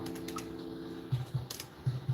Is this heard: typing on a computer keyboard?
yes